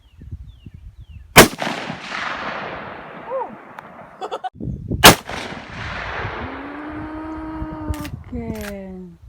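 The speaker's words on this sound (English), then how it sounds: "Shoot a 30-30." A 30-30 rifle fired outdoors, two loud sharp reports several seconds apart, each trailing a long fading echo, with a person talking in between.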